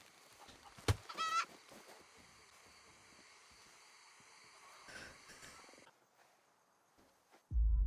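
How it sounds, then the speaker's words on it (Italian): A Livorno hen clucking, with a couple of short, fairly close calls early on, then long stretches of near quiet before a sudden loud thump at the end. "Ah, gallina livornese"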